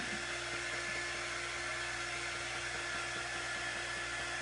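A hair dryer-style heat tool blows steadily to dry ink on a craft design, a constant close whirring hiss with a low hum that runs unbroken throughout without any voices.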